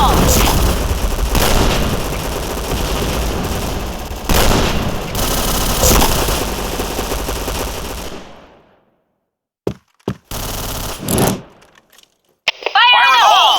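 Grenade blasts and rapid gunfire in the online shooter Point Blank, loud dense bursts of automatic fire and booms that cut to near silence, then return as shorter volleys, with in-game voice callouts shouted over the fighting.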